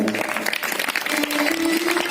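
Audience applause at a Bhagavat Katha gathering in Basant Vihar, Lucknow: steady, dense clapping from a crowd runs through the whole stretch, with a sustained tone, likely a voice, held beneath it in the second half.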